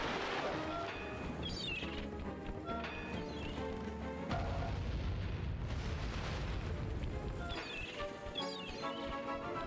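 Cannon fire and explosions in the Sly 3 video game, dense continuous booms and bursts layered over game music and effects, loud and sustained throughout.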